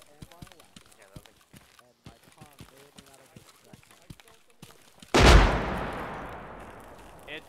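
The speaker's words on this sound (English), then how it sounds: "The explosions are too big for BMPs, I think. I think it's mortar." A single heavy mortar explosion in the Arma military game lands with a sudden loud boom and a long rumbling decay, after several seconds of scattered sharp distant gunfire pops.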